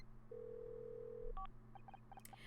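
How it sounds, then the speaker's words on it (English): Touch-tone telephone dialing in the video game Murder by Numbers: a long steady tone, then a short double-tone beep followed by a quick run of separate dial beeps over faint background music. "Alex Costa's phone number."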